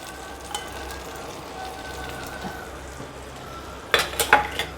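Urad dal frying in a pan of hot oil for a tempering, a low steady sizzle through most of the stretch, then a few sharp clinks of a utensil near the end.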